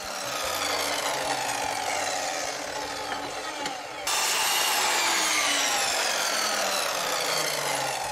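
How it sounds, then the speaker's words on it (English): A miter saw cuts 45-degree angles into the ends of wooden planks for a DIY rabbit hutch, producing a continuous loud whining grind that dips briefly midway, then resumes at full strength. "I used my trusty miter saw, gosh, I love that thing, it's such a useful tool, to cut out the 45 degree angles"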